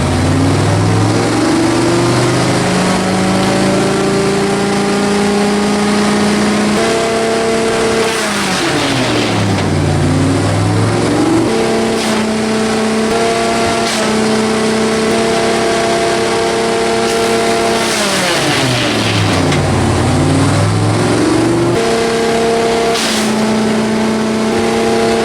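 A hot rod AMC V8 engine driving a wood chipper runs loud and steady, with its pitch dipping twice under load as brush is fed in and then climbing back to a constant drone.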